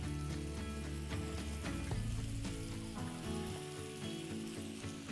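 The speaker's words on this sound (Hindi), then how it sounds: "कीजिए इसकी जबरदस्त भुनाई ताकि टमाटर भी मेल्ट हो और स्पाइसेस का जायका भी मीट के अंदर तक रचे" Meat masala with tomatoes and red chilli roasts in a pan with a continuous, even sizzle and frying hiss, heard under steady background music.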